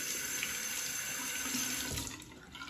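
A faucet runs steadily to rinse a Merkur 34C safety razor, giving a close, even hiss of splashing water into a sink. The flow eases slightly near the end.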